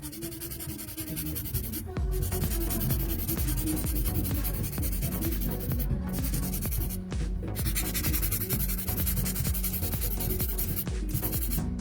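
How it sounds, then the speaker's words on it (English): A gel nail being filed to bevel the C-curves, a steady, close, continuous rasping and scratching rub with a faint rhythmic pulse, heard without any talking. "What I'm doing right now is I'm beveling the C-curves so that way the sidewalls are nice and even."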